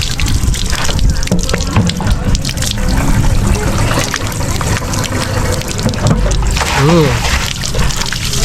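Fresh drinking water runs continuously from a natural source in La Union, a steady loud splashing flow, while voices talk over it nearby.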